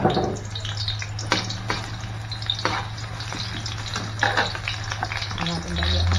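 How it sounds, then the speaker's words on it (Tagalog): Garlic and onion sauté in a pan with steady sizzling and stirring, while a low hum runs underneath and scraping clatters come now and then. "Gisa lang tayo ng bawang sibuyas."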